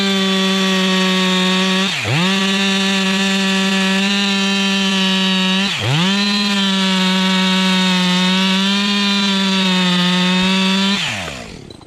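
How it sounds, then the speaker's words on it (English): A chainsaw cuts wood in a snow-covered forest, its engine droning loud and steady up close, with two brief dips in pitch as the chain bites into the log before revving back up, then a fade at the end. "the chainsaws never rest"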